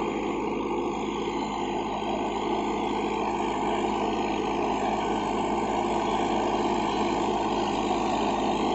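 A Farmtrac 60 Supermaxx 55 hp tractor, a 2021 model, runs its diesel engine while pulling an 11-tine cultivator, giving a steady, loud, continuous drone with no talk.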